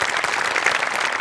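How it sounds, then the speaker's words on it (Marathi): Audience applause at a Marathi television show, dense steady clapping from many hands throughout with no pauses, loud and close. "ही सिरीज ज्याला कोणाला सुचली त्याच्याकरता एकदा टाळ्या वाजल्या पाहिजे."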